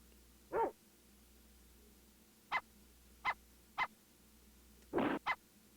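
Short, sharp dog barks in an RPG Maker horror game, six clipped yaps spaced irregularly over a few seconds against a quiet low background, with no talking.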